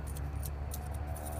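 Coins jingle and clink in a steady, close metallic shimmer for the whole moment, heard alone with no talking.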